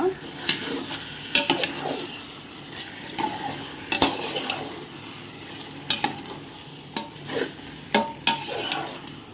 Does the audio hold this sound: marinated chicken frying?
yes